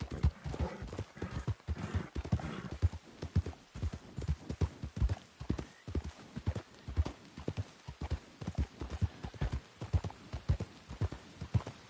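Horse hooves gallop in a steady, rapid clip-clop rhythm throughout a Red Dead Redemption 2 ride, loud and close, with a brief whinny-like tone early on.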